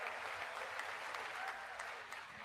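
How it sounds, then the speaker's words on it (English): A crowd claps together at a political speech, producing a steady, moderately distant wash of applause with a few sharper individual claps standing out. "Stand and clap."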